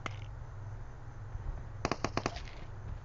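Shotgun blasts in PUBG Mobile on the snowy Vikendi map, a tight cluster of about five or six sharp shots after a quiet stretch of game ambience, moderately loud and slightly distant.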